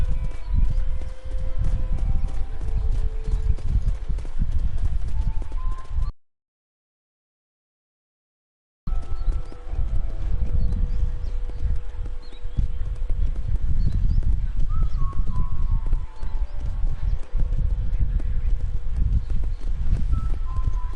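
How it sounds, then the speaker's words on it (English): Video game horse hooves clip-clop in a fast, steady galloping rhythm, loud and close, with a short silent gap midway before the gallop resumes. "let's see if you can still ride a horse"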